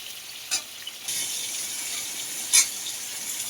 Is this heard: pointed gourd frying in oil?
yes